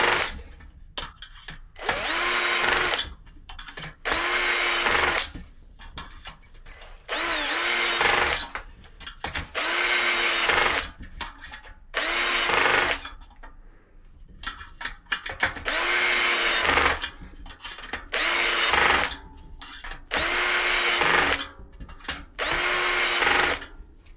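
A power drill turning bicycle spoke nipples on carbon rims whirs in repeated short bursts, starting and stopping about a dozen times with brief pauses between, close and loud.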